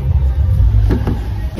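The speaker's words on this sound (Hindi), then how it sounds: "भाई गाड़ी मोड़ रहा है, मोड़ लो भाई जल्दी।" A car turning around on a road at night gives a loud, steady low engine rumble with a brief mechanical whir in the middle.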